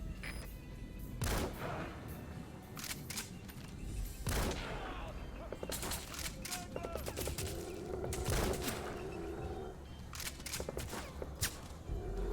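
Gunfire in a video game, irregular sharp shots and short bursts scattered across a busy background of game noise, with a voice talking in between.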